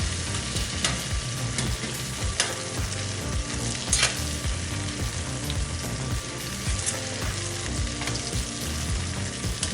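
Potatoes fry in butter in a pan with a loud, continuous sizzle and crackle, broken by scraping and knocks as the pieces are turned over, and nobody speaks.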